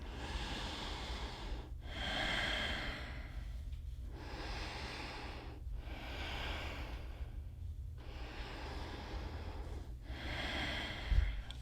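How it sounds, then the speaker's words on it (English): Slow, deep breathing during a yoga relaxation: three long, even inhale-exhale cycles, close and alone, each breath a soft broad rush with quiet pauses between, over a low steady hum. "Take 3 more breaths."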